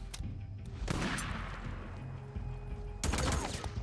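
Heavy shotgun blasts boom in the video game Days Gone, two loud bursts of gunfire a couple of seconds apart, the first trailing into a rumbling decay.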